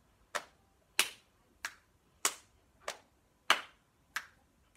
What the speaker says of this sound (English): we have to do slap, clap, click, clap